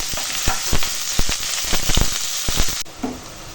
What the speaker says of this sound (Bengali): ওই তেলেই এখন দিয়ে দিলাম তেজপাতা আর দিয়ে দেবো কেটে রাখা পেঁয়াজ আর কাঁচা লঙ্কা দিয়ে এখন ভেজে নেবো পেঁয়াজটা